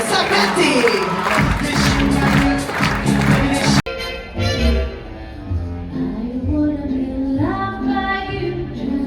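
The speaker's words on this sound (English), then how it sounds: "Once again, a huge round of applause and a costly applause" Loud applause and cheering from a cruise audience aboard the MSC Preziosa for the crew, officers and captain, dense and continuous for a few seconds before cutting abruptly to music and voices.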